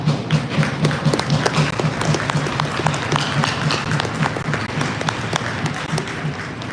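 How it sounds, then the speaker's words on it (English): Steady applause from a crowd at an ice hockey exhibition game, dense overlapping claps sustained throughout with a faint thumping underneath and little talk. "round of applause for the player that successfully got off the ice there"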